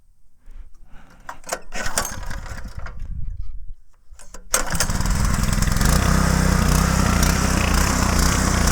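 A homemade tractor's small engine sputters unevenly at first, drops out for a moment, then catches and settles into a loud, steady running drone close by.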